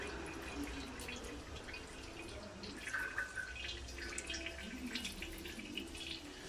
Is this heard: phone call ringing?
no